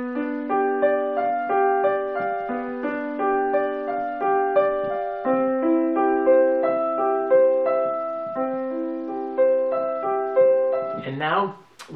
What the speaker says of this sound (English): And finally, let's take measures 5 and 6 and merge those with measures 7 and 8, and it will sound like this.